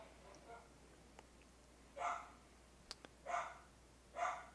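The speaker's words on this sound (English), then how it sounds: "Someone's walking by with a dog, so our dogs are barking a little bit." Dogs at home bark a few short, faint times in the distance, spaced a second or so apart, as another dog passes outside, with a soft ticking click between the barks.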